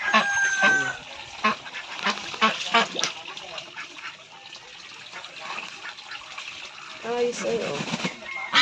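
Ten Pekin ducks bathing in a backyard, several quacking loudly and repeatedly up close, with a person talking over them and splashing noise around.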